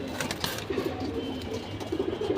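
Pigeons coo softly and repeatedly nearby, low rolling calls over a busy background of rustling and faint noise.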